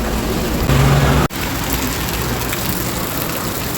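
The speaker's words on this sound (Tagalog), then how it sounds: "grabe ng ulan dito" Heavy rain pours steadily outside Lucky Plaza, a dense, constant hiss near the listener with a brief dropout partway through and no talking.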